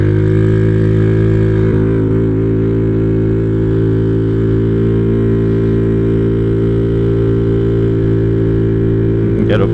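A 2011 Honda Zoomer 50cc scooter accelerates up to speed during a ride, its small engine giving a loud, buzzing, strongly tonal drone that holds close and steady, with a brief pitch shift near the end.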